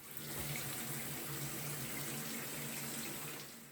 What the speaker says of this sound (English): turn on the water and pull the spout diverter to divert water to the shower